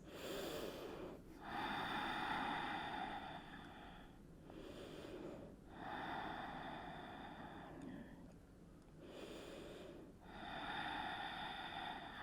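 Slow, deep breaths during a yoga flow, each long airy inhale and exhale rising and falling in a steady rhythm, close and soft, with no talk.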